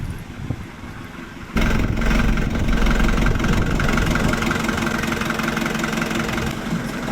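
A shuttle vehicle's engine starts up abruptly and then runs at a steady, loud idle-like drone with a slight knocking texture, no voices.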